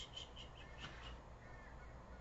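Crows cawing outdoors at a moderate distance, several short harsh calls scattered over a steady low background rumble, faint and not close.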